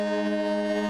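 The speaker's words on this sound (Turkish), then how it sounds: "Sis düdüğümü." Ship's foghorn in a cartoon sounding one steady, loud, tonal blast that holds evenly for under a second, with no voices.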